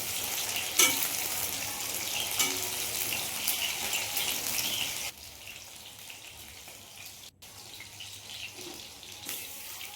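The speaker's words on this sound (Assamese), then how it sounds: "কেৰাহীত তেল গৰম কৰি ল'লোঁ আৰু ইয়াতে মই বেঙেনাখিনি প্ৰথমতে ভাজি লৈছোঁ।" Cut white brinjal sizzles in hot oil in a wok, a crackling fry with stirring scrapes that grows busy at first, then drops to a quieter, softer sizzle partway through.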